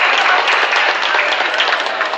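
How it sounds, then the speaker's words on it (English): An audience at a market cooking demonstration applauds warmly, a dense, steady wash of many hands clapping together, sustained and fairly loud throughout. "we want to just give Beth Fisher a round of applause and a big thank you for coming into the market today."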